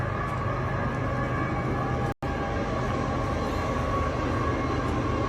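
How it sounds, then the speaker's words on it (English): A steady, loud rumbling roar of a train running close by, continuous throughout with a sharp momentary dropout midway. "those trains are noisy, and we're right next to the tracks."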